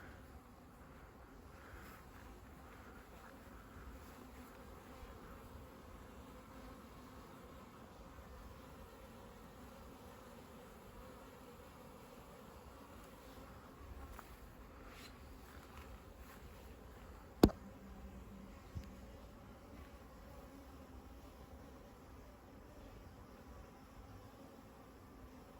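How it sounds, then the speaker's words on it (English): Bees buzz steadily inside an ancient stone church, a faint continuous insect drone throughout with a couple of brief knocks partway through and no talking. "A bit wary climbing in here because"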